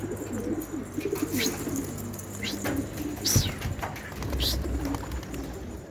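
Pigeons in a loft or yard cooing and calling in short bursts, with a few sharper chirps over a steady low background hum, fairly close.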